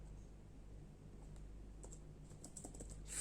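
Rapid, light clicks of someone typing a fastboot command on a computer keyboard, quiet and close, in a steady patter of keystrokes over a low room hum.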